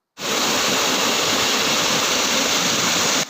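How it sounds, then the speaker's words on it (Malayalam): A rural waterfall tumbling over rocks roars as dense, unbroken white noise, loud and close, starting abruptly and holding constant with no voices. "തികച്ചും ഗ്രാമീണ ഭംഗിയുള്ള ഒരു വെള്ളച്ചാട്ടമാണ്"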